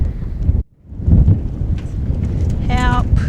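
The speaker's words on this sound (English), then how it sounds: "it is still really windy" Strong wind buffets the microphone at Kata Tjuṯa in a loud, rumbling roar that briefly drops out, then returns, with a short voice-like sound near the end.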